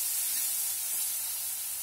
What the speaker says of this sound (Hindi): अभी हमारा तड़का थोड़ा सा पकने लगा है